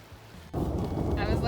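A loud thunderclap breaks over rain during a thunderstorm while hikers shelter under a wind-torn tarp on a hiking trail, the sudden boom rolling on with steady rain and wind buffeting the microphone.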